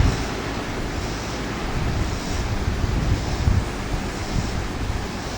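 Steady wind blows outdoors on a breezy day, a constant loud rushing roar buffeting the microphone, with gentle swells and no talking.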